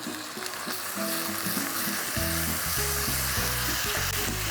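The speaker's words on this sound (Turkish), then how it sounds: "Bunu da böyle ses duyana kadar kavuracağım" Rice sizzles and crackles while being sautéed in a hot pan, with a steady frying hiss and some clinks of stirring.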